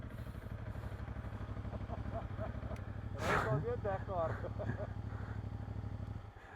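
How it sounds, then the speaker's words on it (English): A motorcycle grinds along a rough off-road track toward an old radar station, its mid-pitched engine chugging steadily with rattling clatter from the bumpy ground, fairly close, while a voice speaks over it partway through. "This is some heavy off-road riding."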